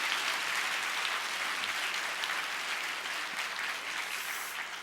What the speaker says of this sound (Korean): 수고하신 분들을 위해 한번 박수해 주시면 감사하겠습니다